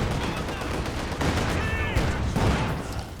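Machine gun fire in Company of Heroes 2, a rapid distant rattle mixed with other battle gunfire and explosions in a continuous busy fight, with voices faintly underneath.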